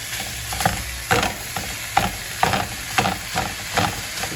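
Ground beef, sausage and onions sizzle in a large non-stick pan, with a steady fry broken by regular scraping strokes of a utensil stirring and breaking up the meat, about twice a second, close and clear.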